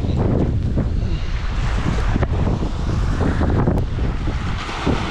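Gusty wind buffets the microphone over open water, a rough continuous roar with occasional sharp bumps.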